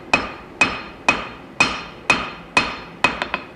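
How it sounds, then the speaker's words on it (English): A hammer strikes hot Wootz steel while forging the tang of an integral chef's knife, giving evenly spaced ringing blows, roughly two per second, ending with a few quicker lighter taps. "forging my tang in just a little bit longer"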